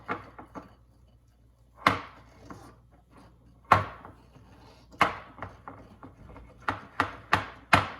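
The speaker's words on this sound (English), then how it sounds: "just kind of scrape around the sides of the bowl so you're just picking up all your powdered sugar in there" A spatula scraping and knocking around a bowl while mixing powdered sugar glaze for espresso banana muffins, a series of sharp, separate clacks and scrapes at an irregular pace, close and alone.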